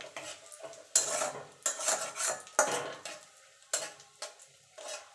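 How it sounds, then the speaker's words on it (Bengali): Dried red chilli with ground coriander and cumin is tempered in hot oil in a pan, giving a string of close sizzling bursts. A metal utensil scrapes and taps as it stirs. The sound is fairly faint and there is no speech. "এবার ফোড়নে দিয়ে দেবো একটা শুকনো লঙ্কা।"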